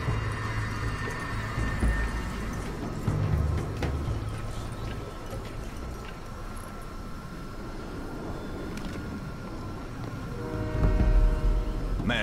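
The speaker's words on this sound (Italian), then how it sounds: "Il treno si sta muovendo." A moving train in the video game Crysis Warhead, a steady low rumble with a held horn-like tone near the end, loud and continuous throughout with no voices over it.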